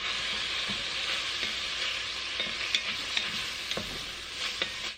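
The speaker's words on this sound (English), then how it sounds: "Get this nice and mixed in here." A spoon scrapes and stirs flour into beef stew in a Dutch oven, with a steady sizzle underneath, soft clicks and knocks recurring irregularly.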